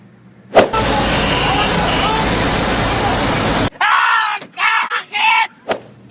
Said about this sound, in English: Because it started out in a car ride.